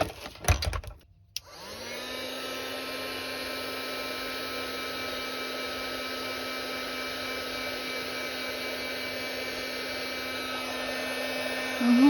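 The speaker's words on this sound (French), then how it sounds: "quand on utilise le heat gun, on voit que ça fait une différence" A heat gun blows steadily on embossing powder for a card craft, a close continuous whooshing hum with a faint whine, starting after a brief clatter and holding unchanged to the end.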